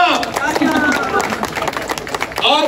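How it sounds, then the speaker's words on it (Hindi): An audience at an Urdu Bazar Lahore election gathering claps loudly with crowd murmur and voices over the applause, a dense burst of clapping that carries on for the whole moment. "तालियां"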